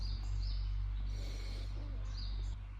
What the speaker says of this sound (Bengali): পুরো পাখির আওয়াজ চারদিকে